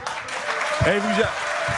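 Audience applause rolling as a continuous hiss of many hands in a studio debate, moderately loud, with a voice speaking over it.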